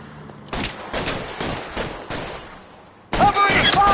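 Bursts of gunfire in a video game shootout with police, starting with several quick volleys of shots, then a dense, louder burst near the end with a brief voice call.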